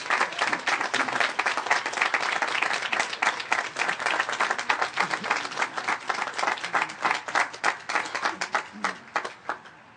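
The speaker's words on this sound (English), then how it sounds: "Please give them a round of applause" Sustained applause from a large audience at a 2016 Merrimack High School graduation ceremony honoring teachers, dense clapping that holds steady for several seconds and then thins out into scattered claps.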